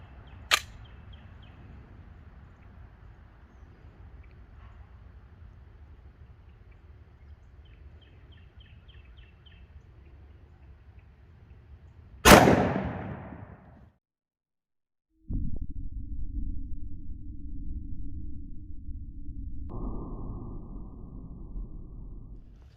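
A single sharp 10mm pistol shot of Underwood 180-grain XTP ammunition fired into a gel block outdoors cracks loudly after a long quiet stretch, its echo decaying quickly before a steady low hum follows.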